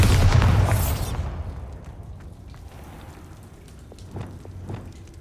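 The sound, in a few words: Bombarda blasting spell explosion, from the video game Hogwarts Legacy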